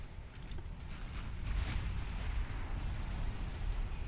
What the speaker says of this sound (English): 3-inch guns getting to work on the destroyer